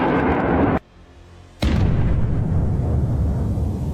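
A sudden loud blast of a HIMARS missile striking a Russian Buk air defense system cuts in after a brief lull, followed by a heavy rumbling roar that lingers and slowly fades.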